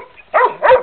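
A dog barks twice in the Christmas setting, two short sharp close barks separated by a brief pause, with nothing else heard alongside.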